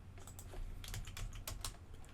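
Numbers are tapped on a calculator keypad in a quick series of light, close plastic key clicks, quiet and alone.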